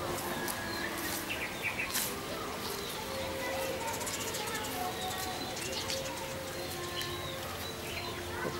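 Birds, including parrots, cooing and calling in a hotel aviary in Pattaya, Thailand, amid a busy outdoor hum, with faint voices and scattered chirps, fairly distant and soft throughout.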